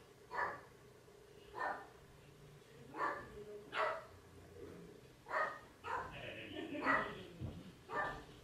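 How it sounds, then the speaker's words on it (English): Household dogs bark in a room nearby, about seven sharp, separate barks at a fairly even pace, some yips overlapping near the end, loud against a quiet background with no talk. "My god, my dogs are annoying."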